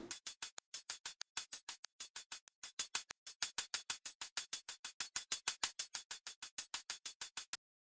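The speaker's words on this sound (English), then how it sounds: "Volume randomizer is being used on this hi-hat pattern right here." Hi-hat loop in Ableton Live run through a volume randomizer: a steady rapid stream of crisp, bright ticks, each hit landing at a slightly different loudness, with brief gaps between bars and no voices.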